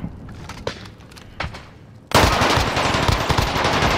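Gunfire from the video game Call of Duty: Modern Warfare. A few faint shots and thumps come first, then a loud, sustained burst of automatic fire that continues to the end.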